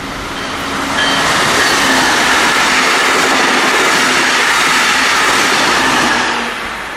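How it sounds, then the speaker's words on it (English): Southbound Brightline commuter train passing on the Florida East Coast line, a loud sustained roar of wheels and rushing air that swells in, holds steady for several seconds and fades slightly at the end. "It isn't long before the first train gets here, a southbound Brightline commuter train."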